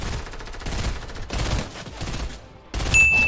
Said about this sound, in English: what are you shooting at, bro?